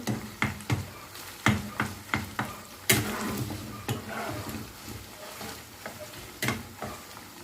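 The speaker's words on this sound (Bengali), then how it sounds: "আমার চিকেনের কিমাগুলো ফ্রাই হয়ে এসছে" Minced chicken frying in a pan for restaurant-style chicken fried rice, a soft sizzle broken by irregular scrapes and clacks of a utensil stirring the mince, close and alone with no talk.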